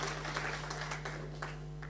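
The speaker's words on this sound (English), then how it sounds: "Another round of applause for our Chairman" Brief, fairly faint applause from attendees at a meeting in Nakuru honoring the chairman, scattered claps over a steady electrical hum.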